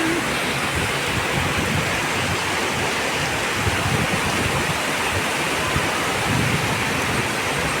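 Heavy rain pours down in a dense, unbroken roar of hiss and splatter, loud and close, with no voices.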